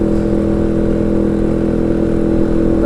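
An automatic matic scooter engine runs at a steady idle, a close, even low hum and rumble that holds without revving or talk.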